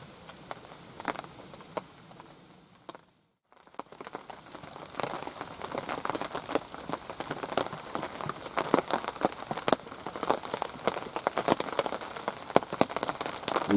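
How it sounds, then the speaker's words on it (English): Rain falls steadily on a wild campsite, pattering close and irregular on a shelter or tent overhead, with drips growing denser after a brief quiet pause. "Lovely bit of rain on top,"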